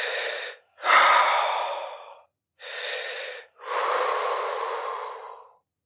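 A man gasping and struggling for breath in terror, several ragged breaths in separate bursts, close and fairly loud with short silences between, in a spoken ghost story.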